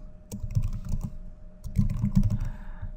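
Keys on a computer keyboard clatter in two quick bursts as a function name is typed into a cloud console form, crisp close taps with a short pause between runs and no voices.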